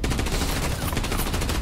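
Dense, continuous gunfire in the shooter game Arena Breakout Infinite, loud and unbroken with rapid overlapping shots across the whole moment.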